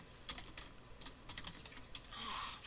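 Quiet keyboard typing with irregular soft key clicks in a lecture room, faint and a little distant, no talking.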